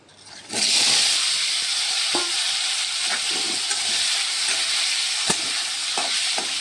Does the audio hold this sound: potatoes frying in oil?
yes